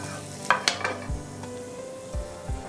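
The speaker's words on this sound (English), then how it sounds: "We'll add garlic. And saute them for a few seconds." Garlic and bay leaf sauteing in a pan of hot oil, a steady close sizzle broken by a few clanks and scrapes of a spoon stirring against the pan.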